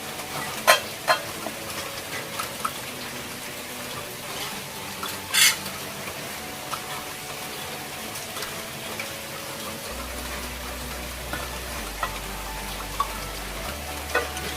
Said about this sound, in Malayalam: ഇനിയിപ്പോൾ കുറച്ച് വെളിച്ചെണ്ണ ഒഴിക്കണം, കുറച്ച് കറിവേപ്പില ഇടണം